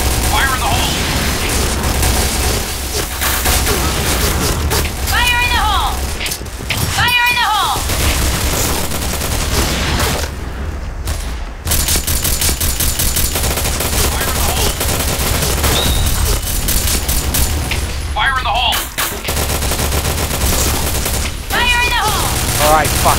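Grenade explosions and bursts of gunfire in a video game, dense and loud almost throughout, with a brief lull in the middle; someone shouts several times over the din.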